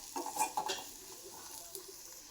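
Garam masala fries in hot oil while a spoon stirs it in a pan, a few quick metallic scrapes and clinks early on over a faint sizzle, then quieter low frying.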